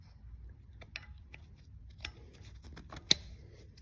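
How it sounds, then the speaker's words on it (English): A BMW 1 or 3 Series rear brake pad wear sensor snapping into its slot on the pad, a few faint light ticks and a single sharp close click near the end, in a quiet workshop. "Click. See that click?"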